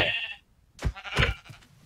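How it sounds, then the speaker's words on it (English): Sheep bleating in the Minecraft video game: a steady synthetic bleat at the start, followed by two louder, choppier bleats close by, with no talking. "Hey, sheep."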